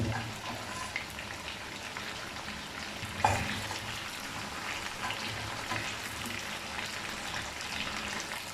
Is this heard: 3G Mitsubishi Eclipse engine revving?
no